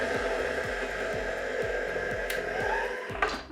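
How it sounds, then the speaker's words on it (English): An electric hand mixer whirs steadily as it beats cake batter with lime zest for a mango and coconut cake, a continuous close motor drone with a faint clatter near the end. "My mixer has been going for the past 6 minutes"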